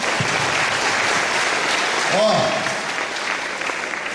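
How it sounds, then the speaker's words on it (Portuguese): A crowd at a gathering of a men's rosary group claps steadily in a continuous wash of applause lasting about four seconds, with a brief voice rising over it midway. "Ó, as palmas são é bonitas."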